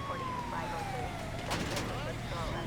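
Police car siren in a driving game, a wailing tone sweeping down over engine rumble with brief bursts of noise midway, under a voice.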